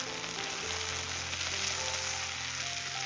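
Grated coconut and okra sizzle in a hot pan, a steady, even frying hiss with no clear breaks, heard close and alone without speech.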